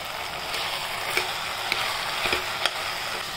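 Sprouted green moong goes into a hot pan for khichdi, bringing a steady close sizzle with faint stirring scrapes and a few small clicks, no voices over it.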